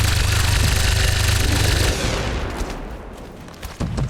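A loud burst of gunfire in XCOM 2, dense and booming at first, then fading into a quieter tail with a few scattered thuds.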